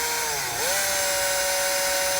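A power drill whines loudly while drilling during a trailer brake controller installation on a 2019 Jeep, its motor pitch dipping briefly then climbing and holding steady as it bites in, with no voices.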